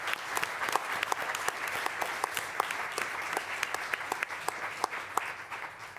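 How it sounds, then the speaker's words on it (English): A modest audience at a school board meeting applauds retiring staff, with clearly separate, fairly close claps forming a steady patter that fades slightly at the end. "we would like to offer them a round of applause"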